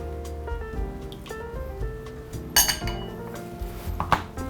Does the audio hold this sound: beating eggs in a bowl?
yes